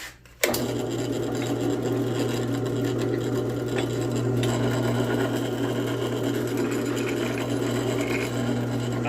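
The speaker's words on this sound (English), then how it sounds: "we're just going to be deburring this piece now" Steady, continuous grinding of a metal piece being deburred in a shop, a loud unbroken abrasive whir with a low hum underneath that starts abruptly and runs on without pause.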